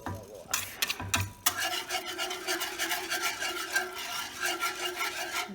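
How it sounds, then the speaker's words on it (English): A whisk scrapes and rasps steadily against a pan while gravy for pork chops thickens, a continuous close scratchy stirring with brief pauses near the start. "I'm going to get my whisk."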